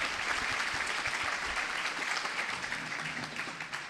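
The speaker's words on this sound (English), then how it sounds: "A round of applause, Taka." Dense, steady applause from a large crowd at a celebratory community event, filling the space at an even level with no voices breaking through.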